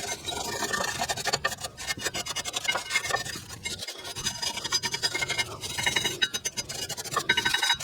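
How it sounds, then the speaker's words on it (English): A small wire brush scrubs rust from the channels of a 2008 Acura MDX rear brake caliper bracket, a quiet rapid scratching with irregular bursts of strokes and brief pauses, close by and without speech. "I'm just going to use a little wire brush in these channels and try to clean this up as much as possible"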